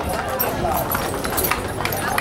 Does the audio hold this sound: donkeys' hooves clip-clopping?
yes